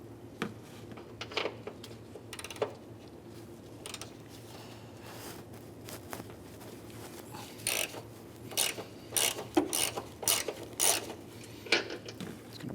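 A ratchet works the 15 mm top strut bolts on a 2007-2013 Acura MDX, with scattered clicks early on and then a dense run of close, crisp ratcheting bursts near the end, over a steady low hum and no speech.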